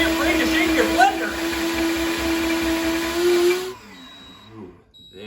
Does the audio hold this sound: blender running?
yes